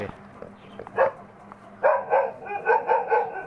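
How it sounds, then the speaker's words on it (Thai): A dog barks in a run of five or six loud, evenly spaced barks close by, after a couple of softer earlier yips, with no talking over it. "ไม่ต้องเห่ามาก เขารู้แล้วว่าเป็นหมา"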